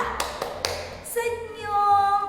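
Three sharp, evenly timed claps from a class 3 group doing the "tepuk senyum" clapping chant, then a voice speaking or chanting afterward.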